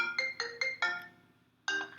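A phone ringtone plays a repeating electronic melody, five quick bursts, a short pause, then another burst cut off sharply at the end, close and clear with no talking.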